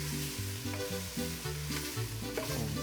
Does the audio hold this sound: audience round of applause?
no